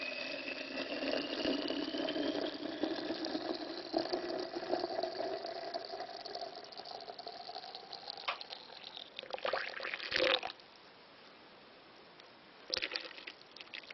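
Boiling water pours into the jug of a yoghurt maker in a steady, close stream for about ten seconds, followed by a few hard knocks and a short clatter.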